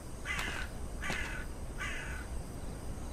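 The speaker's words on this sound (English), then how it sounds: "we got some crows" Three loud, harsh caws from crows ring out at an even pace over a steady outdoor hiss near an abandoned monastery.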